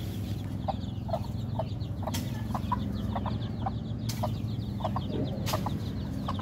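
A mother hen clucks softly and repeatedly while tending her chicks outdoors, with the chicks' thin high peeps scattered throughout over a steady farmyard background.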